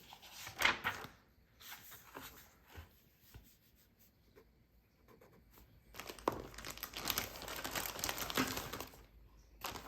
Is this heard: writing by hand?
yes